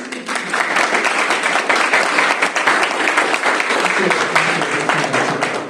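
Sustained applause from the audience for the panelists at a Singapore private equity and venture event, thick continuous clapping throughout with some voices mixed in underneath.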